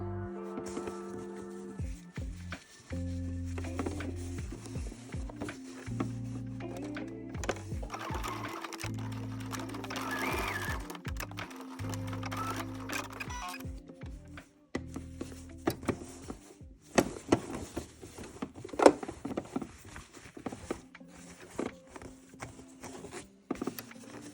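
A sewing machine stitches along the fold to close the triangle and bottom of a welt pocket on a street jacket, running in close bursts of rapid mechanical whirring, with pauses and some handling clatter near the end.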